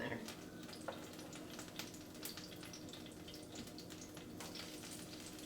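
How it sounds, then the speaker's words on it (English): Onion fries with pieces of potato in a pan, a steady close crackling sizzle with scattered pops and occasional stirring scrapes, fairly quiet throughout. "Start frying up this onion."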